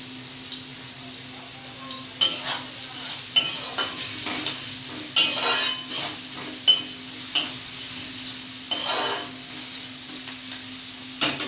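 A spoon repeatedly stirs dalia in a pot with turmeric and salt, producing scraping strokes and light clinks over a soft steady sizzle, close and moderately loud with no talking.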